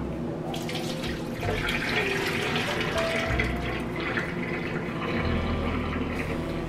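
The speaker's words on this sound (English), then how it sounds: "I'm gonna drain the tapioca now." Cooked tapioca pearls being drained in a kitchen sink, a steady rush of water and liquid pouring and splashing into the basin, close and continuous, with a louder surge near the end.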